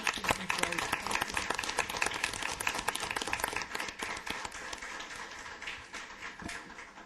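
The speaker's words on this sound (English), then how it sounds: "I'd like to all of us give her a warm round of applause for all that you've accomplished." A room of people at a city council meeting gives a warm round of applause, busy overlapping clapping that starts strong and gradually thins toward the end.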